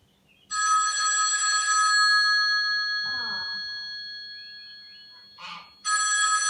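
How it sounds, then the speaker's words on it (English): A telephone ringing with a bright, sustained electronic ring, loud and close, in two long bursts separated by a pause, with brief quiet background sounds between them. "The phone's ringing."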